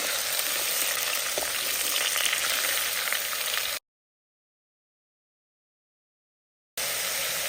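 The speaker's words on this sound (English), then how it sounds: "Saute it for about a minute." Sliced mooli radish and tomatoes sauté in a hot pan for sambar, giving a steady close-up sizzle. A silent break falls midway before the frying resumes.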